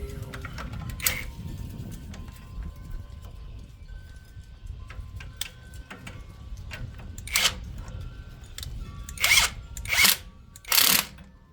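Power drill tightening a part on a Ford F350 shop truck, several short loud whirring bursts near the end over a low background rumble and scattered clicks.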